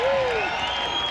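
A Highland Games crowd at an outdoor event in Florida makes noise with applause and scattered cheering, a whistle-like whoop rising above the steady roar, all heard fairly close and continuous.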